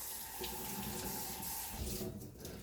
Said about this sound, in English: I'm just going to clean them up, give them a nice, good rinse.